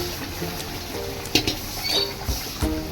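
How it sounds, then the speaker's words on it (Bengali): Boiled mutton and potato are stirred into fried spice paste in a pan for mutton kosha, with scattered spoon scrapes and metallic clinks against the pot over a soft background, close and fairly loud. "এবারে আমি সিদ্ধ করা মটনটা জল সিদ্ধ এর মধ্যে দিয়ে দিলাম আলুটাও অ্যাড করে দেবো একই সাথে"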